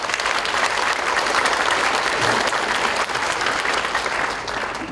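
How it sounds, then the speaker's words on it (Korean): An audience at an automotive industry seminar in Dangjin, South Korea, gives sustained, dense applause for the parts association chairman, a loud continuous wash of clapping that tapers slightly at the end. "우리 김석원 회장님께 박수 한번 쳐주시죠."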